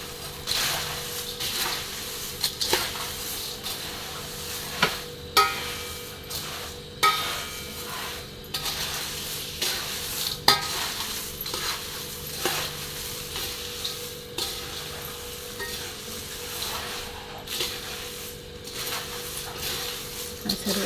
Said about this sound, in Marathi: आणि सर्व असं मिक्स करून घेणार आहे बघा